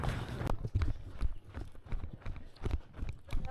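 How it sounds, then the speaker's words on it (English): Horse hooves clip-clop on a volcano trail in an irregular walking rhythm. The close, dull thuds are moderately loud, with faint outdoor noise around them. "Hey, horsey."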